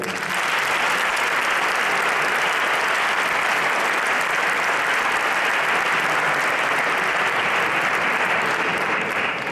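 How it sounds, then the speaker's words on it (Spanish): Sustained, loud audience applause fills a flamenco competition concert in Leganés, a steady wash of many clapping hands with no break. "un aplauso a mi querido amigo Ángel Lacalle"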